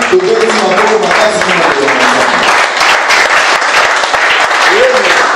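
A church congregation bursts into sustained loud applause, dense clapping that carries on steadily throughout with voices calling out over it.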